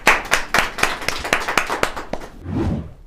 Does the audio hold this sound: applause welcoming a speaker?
yes